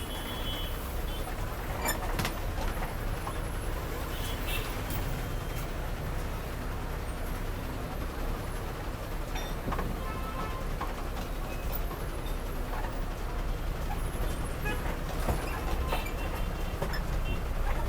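A busy Rayachoti bus stand in India where a Palle Velugu bus bound for Rajampet is loading: a loud, continuous wash of idling engines and outdoor clamor, with scattered beeps and sharp clatters throughout.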